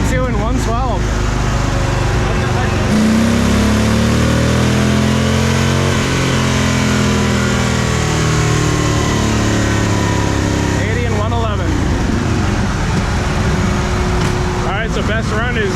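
A car engine on a dyno revs loudly and steadily, climbing and holding high before backing off near the end, with a shorter rev burst at the start and another at the close; people talk over it.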